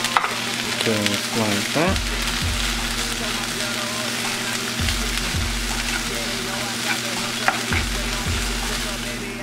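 Vegetables stir-fry with Cajun seasoning in a pan, a loud, dense sizzle running throughout with scraping stirs and clanks of the utensil, while a voice talks briefly over it.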